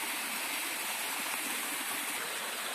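A waterfall near a Shaiva shrine in a village of Rayagada district roars as a dense, steady wash of rushing water, loud and unbroken throughout.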